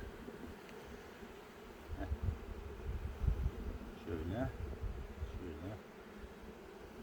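Low, steady buzzing of many honeybees close by at a hive, swelling and easing, with a voice speaking briefly over it.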